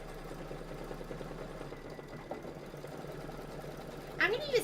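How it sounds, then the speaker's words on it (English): An embroidery machine stitches a placement line in a quiet, even mechanical whir, with people talking over it and a louder clatter near the end. "it's stitching out this whole little placement line"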